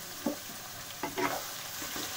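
Half an onion cooking in a pan for chicken do pyaza, kept pale rather than browned. A soft steady sizzle with a few brief scraping stirs near the start and middle.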